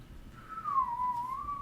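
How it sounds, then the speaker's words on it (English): Someone gives a long, sustained human whistle whose pitch glides down and levels off, clear and fairly quiet over faint room noise. "I gotta do a long whistle on that one."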